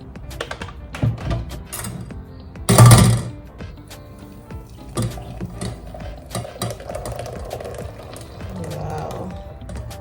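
Homemade mango, carrot and pineapple juice is strained through a strainer with scattered clinks and scrapes of utensils, one louder rattling burst, and a voice speaking briefly.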